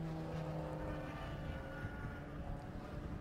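A club racing car runs down Hangar Straight at Silverstone, its engine a steady, droning roar held at a constant distance for the whole stretch, with no talk over it.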